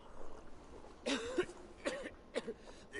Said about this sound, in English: You coughing all over the food.